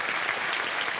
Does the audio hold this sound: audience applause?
yes